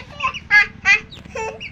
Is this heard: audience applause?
no